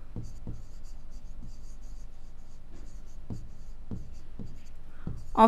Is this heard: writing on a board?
yes